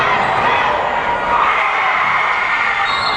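Steady broadband crowd noise fills a high school girls' basketball game in Moffat County, a continuous roar of cheering and shouting from the stands with no clear pauses.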